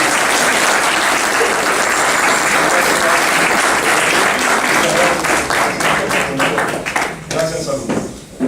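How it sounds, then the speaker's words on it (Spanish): Sustained applause from an audience of students, teachers and guests at a university lecture, honoring the visiting speakers; dense steady clapping that thins and fades out near the end, with voices mixed in. "Un aplauso para los expositores."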